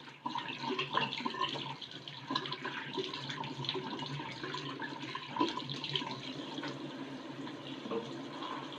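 Steady running water from a kitchen sink tap as ginger is rinsed, a soft continuous splash at low level with faint clinks, no speech.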